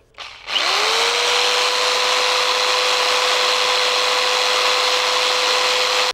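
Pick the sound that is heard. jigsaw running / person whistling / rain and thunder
jigsaw running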